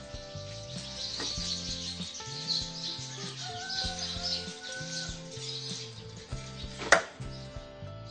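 Knife chopping quail on a board for spicy Thai cooking, a run of repeated even chops with a sharp louder knock near the end, over quiet tonal background music.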